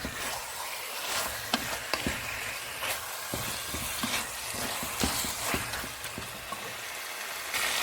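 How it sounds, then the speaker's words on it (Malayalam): Chicken stirred into frying masala for dhaba chicken: a continuous sizzle with scraping, knocking stirring strokes spread across the whole stretch, close and fairly loud. "അപ്പം നമ്മുടെ ചിക്കൻ എന്നിട്ട് നമ്മൾ ഇതിനകത്തേക്ക് ഇട്ട് കൊടുത്ത് നന്നായിട്ടൊന്ന് ഇളക്കി കൊടുക്കാം"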